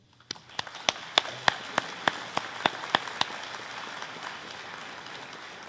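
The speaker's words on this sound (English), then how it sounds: "let's give those you care most about a round of applause" Audience applause at a graduation ceremony breaks out as scattered, distinct claps at first, then thickens into a soft, steady patter of clapping that fades slightly toward the end.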